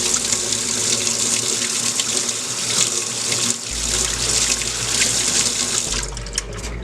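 Water runs steadily from a faucet turned on slowly, a continuous close hiss and splash that swells slightly and shifts near the end.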